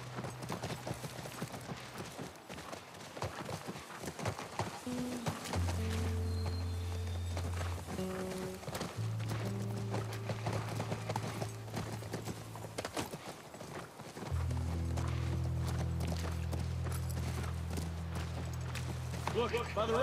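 Horse hooves clip-clop at a steady walking pace near a ranch, moderately close, under sustained low tonal music with rumbling accents.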